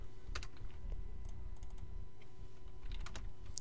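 Code typed on a computer keyboard, quick irregular bursts of close key clicks with short pauses between runs, no voices.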